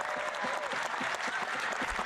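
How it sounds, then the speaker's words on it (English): Sustained applause in the Canadian House of Commons, many hands clapping densely together at a steady level for the whole stretch. "Why is that something to stand and clap for?"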